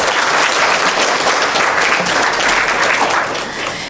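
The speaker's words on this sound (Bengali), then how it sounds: "তার জন্য আর একটা হাততালি হওয়া দরকার" An audience at an event celebrating teachers breaks into loud, dense applause that holds steady and then thins out near the end.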